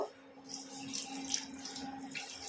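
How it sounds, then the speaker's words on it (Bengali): Hot water poured from a small amount into a cooking pot of Awadhi chicken korma with yogurt, a soft, short trickling splash heard close and fairly quiet, with no talking. "এবার আমি সামান্য গরম জল অ্যাড করব"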